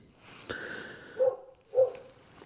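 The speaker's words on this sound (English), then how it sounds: "you can hear the dog barking behind me." A dog barks in the Coromandel area of New Zealand, two or three short, sharp barks at moderate distance against otherwise quiet surroundings.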